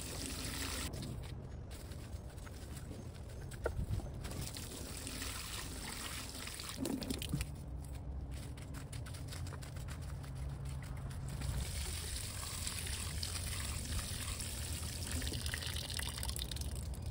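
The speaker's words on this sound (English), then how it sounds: "I'll work the fertilizer into the soil and then water everything in thoroughly." Water poured over freshly fertilized plumeria trees outdoors, a faint steady trickle and splash running continuously with no talking.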